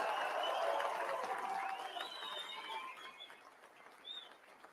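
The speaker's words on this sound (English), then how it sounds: "Give them a round of applause." Applause and cheering from a rally crowd in Fredericton, with some high whistles, loud at first and then gradually fading over several seconds.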